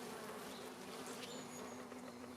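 A hornet buzzes near ivy outdoors, a steady, faint droning hum that persists throughout with slight shifts in pitch as it moves, and no talking.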